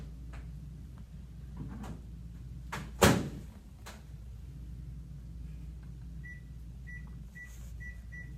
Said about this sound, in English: Then place your mug in the microwave for 2 minutes.